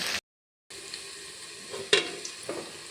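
Okra frying in oil in a pan, a soft sizzle that cuts out briefly and then returns with a few light stirring scrapes and clinks.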